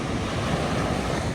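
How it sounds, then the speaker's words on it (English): Ocean surf crashing against rocks on a beach near Cabo San Lucas makes a steady, loud broadband roar with wind buffeting the microphone and no voices. "It was also a great place to get some video of the ocean crashing against the rocks."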